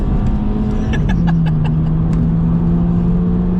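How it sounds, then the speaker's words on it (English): A 2008 Volkswagen Golf GTI MK5 engine drones steadily at close range, its pitch climbing and holding as it revs hard during a kickdown in Drive. "I'm just gonna do a kick down in D"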